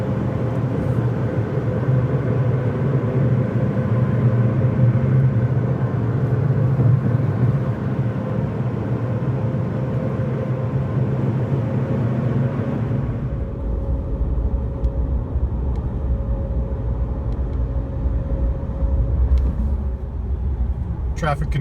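A 2019 Ram Rebel pickup truck cruising on the highway at about 55 mph, giving a steady, loud low rumble of engine and road noise that continues without a break and thins a little in the upper range partway through.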